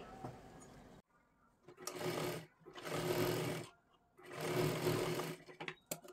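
A sewing machine stitches a katori blouse, running in three bursts of whirring stitching of about a second each, separated by short pauses, close and clear after some quiet handling noise at the start.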